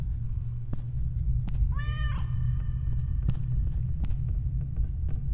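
A cat meows once in a horror video game set on an endless stairway, a short rising-and-falling call heard clearly over a low rumbling ambient drone, with a few faint clicks around it.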